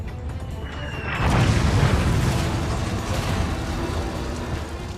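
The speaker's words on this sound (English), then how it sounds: "A thunderstorm of Marine artillery and mortars pound Sugar Loaf, driving the defenders back underground." Marine artillery and mortar fire pounds Sugar Loaf Hill on Okinawa, a loud, sustained rumble of overlapping booms that swells after the first second and rolls on without a break.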